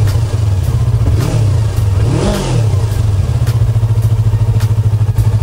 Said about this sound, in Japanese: 純正マフラーでもいい音します。